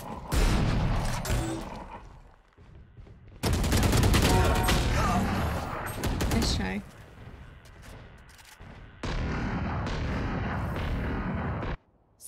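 Video game gunfire erupts in three heavy bursts of rapid shots and booms, separated by short quieter gaps, loud and close.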